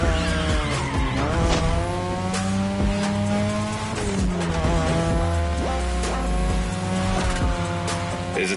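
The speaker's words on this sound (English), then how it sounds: "Tonight, your ride is a 3rd Gen 2002 Mazda RX-7. Lightweight, compact, a sick rotary engine, and one hell of a look." A 2002 third-generation Mazda RX-7 with a rotary engine races in The Crew Motorfest game, its engine wailing loudly and continuously through gear changes alongside repeated tire squeals and skids, with no talk.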